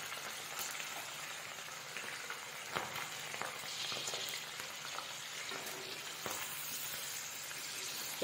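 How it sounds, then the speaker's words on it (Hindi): Okra deep frying in hot oil in a kadhai, a steady, faint sizzle with crackling pops and occasional stirring scrapes, no voices. "तो चलिए फिर पहले हम डीप फ्राई कर लेते हैं, उसके बाद फिर भिंडी को पकाएंगे।"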